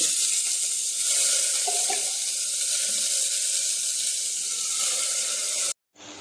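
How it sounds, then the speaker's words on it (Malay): Ground spice paste for a Pahang-style fish curry sizzles steadily in a pan, a loud continuous hiss that cuts off abruptly near the end before resuming faintly. "Tumis bahan yang kita kisar tadi."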